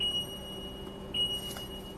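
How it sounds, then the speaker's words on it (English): A car dashboard warning tone beeps inside a vehicle with an EcoBoost engine, two faint high-pitched electronic beeps over a low cabin hum. "we'll just tolerate the beeping for a little bit"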